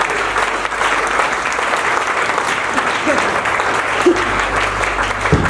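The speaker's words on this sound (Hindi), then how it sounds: "आप लोगों की जोरदार वाली तालियों में इनवाइट करना चाहता हूं" A large audience at a business success celebration in Kaithal gives loud, dense applause to welcome a guest onstage, a sustained wash of clapping with a crowd murmur underneath.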